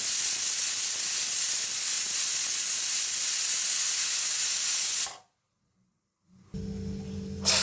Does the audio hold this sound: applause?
no